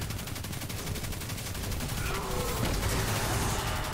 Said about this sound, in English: He's shooting you with arc damage.